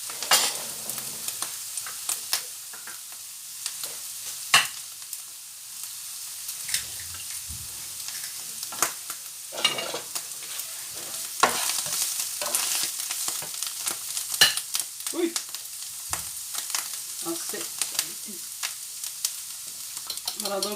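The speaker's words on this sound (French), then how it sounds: "je suis en train de battre mes œufs" Eggs being beaten by hand in a bowl for a spaghetti dish, a close, quick scraping and clicking whisk rhythm with soft splashes, steady and moderately quiet, no voices.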